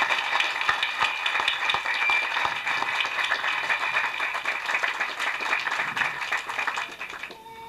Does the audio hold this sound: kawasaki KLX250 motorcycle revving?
no